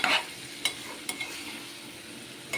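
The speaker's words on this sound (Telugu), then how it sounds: "ఇట్లా బాగా కలుపుకుందామండి. అడుగు నుంచి పైకి ఉల్లిపాయ వచ్చేంత వరకు." Onions being stirred in a cooking pan, with a soft continuous sizzle under a few sharp scrapes and clinks of the spoon against the metal.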